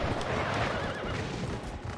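Horse whinnying in The Legend of Zelda: Twilight Princess during the final battle against Ganondorf, a loud shrill neigh with hoof clatter and dense battle noise around it.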